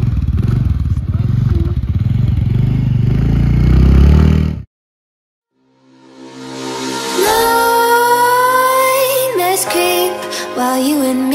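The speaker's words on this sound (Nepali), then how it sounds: "फाइनली स्कुटर स्टार्ट भयो" A scooter engine runs after finally starting in a roadside maize field in rural Nepal. A loud, close, rough low rumble lasts about four seconds, then cuts to silence, and music follows.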